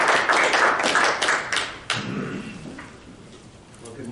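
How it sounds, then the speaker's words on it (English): An audience gives a round of applause to welcome Mr. McQueen, EPA Region 6 administrator, at a morning event: a modest burst of clapping that thins out and fades after a couple of seconds, with a few thuds. "give him a big round of applause"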